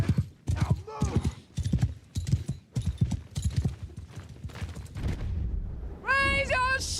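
Horses galloping in a Warhammer video game: rhythmic clip-clop hoofbeats under shouted battle commands, ending with a sharp horse whinny near the close.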